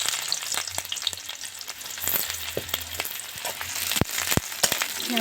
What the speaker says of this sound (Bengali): তেলটা গরম হয়ে গেছে, আমি এবার পেঁয়াজ দিয়ে দেবো।